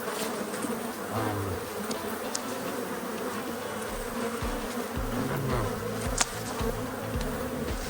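Agitated Michigan honey bees buzzing in a dense, steady hum as they are shaken from a frame, close and continuous with occasional sharper bursts and a bump.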